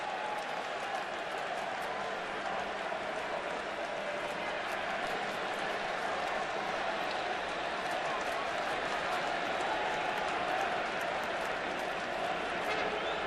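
Steady crowd buzz fills a baseball stadium during a New York Yankees at Toronto Blue Jays game, a broad, constant murmur with scattered clapping, while a commentator talks over it.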